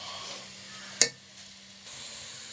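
Food in a cooking pan gets a light stir over a soft, steady sizzle, with one sharp metallic clink of the spoon against the pan near the middle and no voices.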